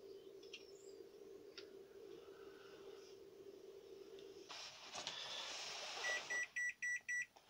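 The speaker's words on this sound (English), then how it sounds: "meter beeping" A run of short, evenly spaced electronic beeps, five or six in quick succession, rising out of a low steady hum, followed by a sharp click, from an ammeter on a Freego 36V e-scooter with a 250-watt motor.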